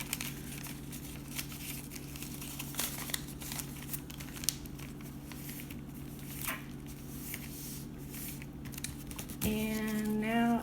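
Paper being folded by hand into a seedling pot: soft crinkling and creasing sounds close up, with a steady low hum underneath and a rising whine near the end.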